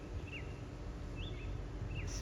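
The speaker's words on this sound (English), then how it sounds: "the noises that the birds create is so beautiful." Birds outdoors give a few faint, thin chirps spaced apart over a steady low background rumble.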